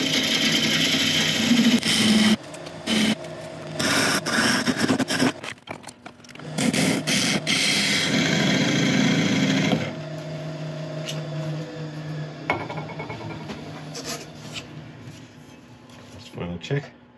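Black locust wood being turned on a lathe, a loud broadband scraping and cutting noise over a steady motor hum that drops to a quieter running whir partway through, with talk heard over it.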